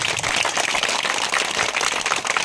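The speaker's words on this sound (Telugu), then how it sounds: "గట్టిగా చప్పట్లు వెంకట్ గారికి" A crowd claps for Venkat at a school adoption event at a primary school in Indiranagar, Jogipet, Sangareddy: dense, continuous applause from many people, loud and steady for the whole stretch, with no talking.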